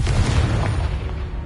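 A Confringo blasting spell explodes in Hogwarts Legacy, a deep rumbling boom with a sustained low roar that fills the whole moment, loud and close with no voice over it.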